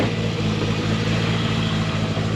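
Toyota Supra engine fitted with Bosch 2000cc injectors, running at a steady idle with a loud, dense, even drone and no talk.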